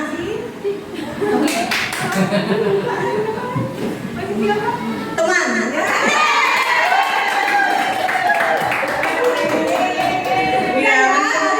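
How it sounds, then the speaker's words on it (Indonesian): An audience at a school presentation on positive culture claps and cheers, a dense, lively run of hand-clapping that lasts throughout, with a voice speaking over it near the start and excited crowd noise rising in the second half. "tepuk tangan Bapak Ibu yang meriah kita semua."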